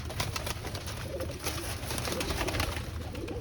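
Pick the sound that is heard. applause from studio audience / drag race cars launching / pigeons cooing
pigeons cooing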